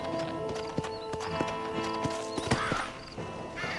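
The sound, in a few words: horse hooves while dismounting a horse, Red Dead Redemption video game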